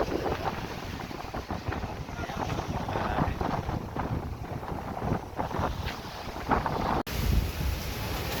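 Strong wind at sea roars and buffets the microphone in a steady, close rush, with water sloshing beneath near a boat landing and a brief cut near the end.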